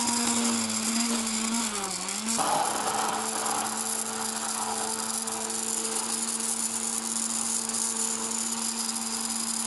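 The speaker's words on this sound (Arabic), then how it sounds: "نخفق المكونات ونضع الزيت" An electric mixer whisks donut batter ingredients with oil, a steady loud motorised whir that shifts pitch briefly near the start, then runs continuously throughout.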